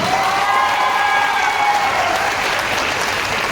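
A crowd at a motivational speech event in Chaiba claps loudly and continuously, a dense close wash of applause with a few faint whistles or cheers in the first half before it begins to fade.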